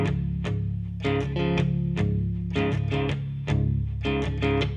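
Acoustic guitar in open tuning strummed in a steady repeating rhythmic pattern, bright chords ringing out loud and close, played alone with no voice.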